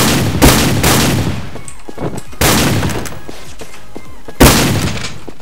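Video game gunfire comes in three loud bursts of rapid shots with short pauses between them, punchy and close, with rattling tails after each burst.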